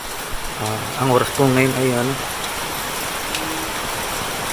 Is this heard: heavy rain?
yes